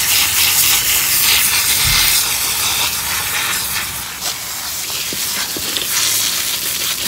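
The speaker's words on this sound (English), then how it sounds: "I'll try and show you how I hose it all off." A loud, continuous hiss of a garden hose jet spraying water under pressure to wash the roots of a repotted trident maple bonsai, steady throughout with a slight drop in intensity partway, no talking.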